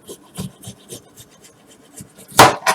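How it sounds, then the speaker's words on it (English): A large knife cuts slices from homemade doner kebab meat in a series of short rasping, scraping strokes, close by and without talk; the last stroke is the loudest. "I can start using the bigger knife"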